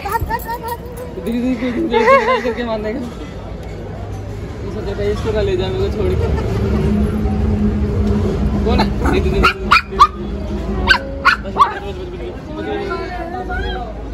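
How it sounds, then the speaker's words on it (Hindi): A dog yips and barks in short bursts amid lively family chatter and background crowd noise, with a few sharper, louder bursts near the end. "देखो गाइस कैंडी कैसे कर रहे इस डॉग को देख के"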